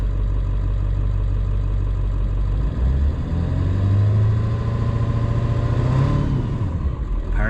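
A Ford 7.3 Powerstroke diesel idles close by with a low, steady rumble, then rises in pitch as light throttle is given and settles back toward idle.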